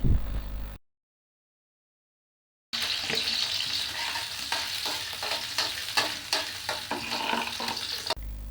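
Chopped onion and chili frying in hot oil in a kadai for noodles, a steady loud sizzle with stirring clatter, after a brief moment of silence.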